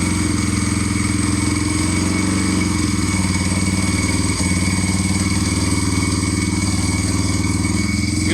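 A motorcycle engine runs loud and close with a rough, steady idle while the throttle is blipped, and a brief stumble partway through suggests a battery or fuel fault.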